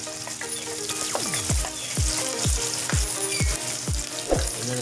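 Onion sizzling in a hot frying pan while cooking bihon noodle soup, a steady crackling fry with regular soft stirring knocks repeating about every half second, close and moderately loud.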